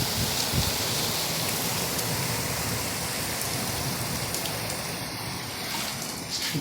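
Steady downpour in Saudi Arabia, a thick unbroken roar of rain hitting surfaces close by, even in loudness throughout with scattered sharper drop impacts and no one talking.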